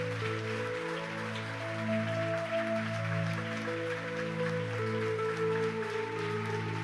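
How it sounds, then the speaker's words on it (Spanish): Congregation applauding God during a church service, a steady wash of clapping that runs the whole time over sustained music tones. "Dale un fuerte aplauso a nuestro Dios."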